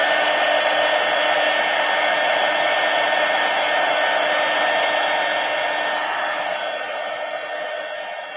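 A hair dryer blows continuously and loudly at close range, drying paint dots on a mixed media collage, a steady whooshing hum that eases slightly toward the end.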